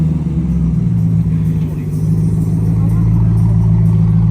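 A turbocharged classic car, likely a Mazda, leaving the Port Solen show with its engine droning and revving steadily close by, a loud continuous low rumble holding throughout.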